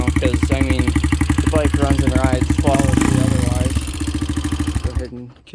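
A 2001 Honda XR200R dirt bike runs close by with a steady, lumpy single-cylinder putter and a brief rev in the middle, then is switched off and sputters to silence near the end.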